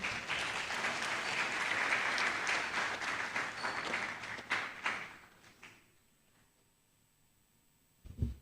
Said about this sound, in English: please let's clap for the two speakers again